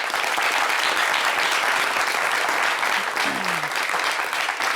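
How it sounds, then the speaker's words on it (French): A studio audience on a French talk show breaks into sustained, dense applause, loud and continuous throughout with a faint voice briefly underneath. "On applaudit pour ça."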